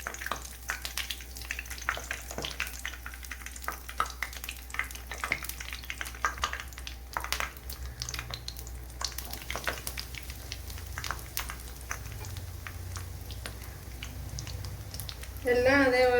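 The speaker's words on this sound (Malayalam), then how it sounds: "ഉരുട്ടി ശേഷം ചൂടായ ഓയിലിലേക്ക് ചേർത്ത് കൊടുക്കുക." Rolled bread snacks frying in hot oil, a continuous sizzle with frequent crackling pops and occasional stirring scrapes, close and moderately loud, ending in a brief louder clatter.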